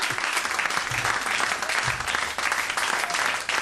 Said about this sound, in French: on peut encore l'applaudir